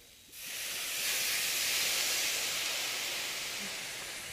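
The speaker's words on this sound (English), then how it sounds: "we're going to get a little bit of white wine, and we're going to deglaze the pan" A sudden broad hiss of white wine sizzling as it deglazes a hot pan starts after a moment of quiet and holds steady, slowly easing off.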